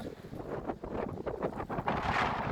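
Wind blows across the microphone on a cloudy day at Bell Park, a steady rushing roar with uneven gusts swelling and easing, loudest toward the end.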